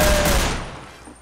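A dense burst of gunfire from Garry's Mod DarkRP roars loudly at the start, then decays into a fading rumble within about a second.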